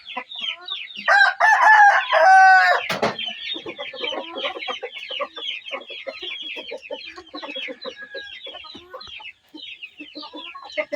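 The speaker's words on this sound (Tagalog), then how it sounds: "Dalawang tandang, isang inahin ah." Two roosters crow while a hen clucks in a backyard poultry pen, the crows loud and close in the first seconds, followed by steady overlapping clucking and chatter from the birds.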